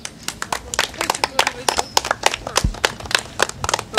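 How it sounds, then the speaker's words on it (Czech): Brisk applause at a Czech town hall award ceremony for a children's art competition, a dense patter of hand claps from a modest audience, close and fairly loud, continuing without a break. "To je potlesk"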